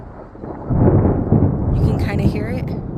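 Thunder from a lightning storm in Colorado swells into a deep, sustained rolling rumble after a quieter start, with a voice faintly audible near the end.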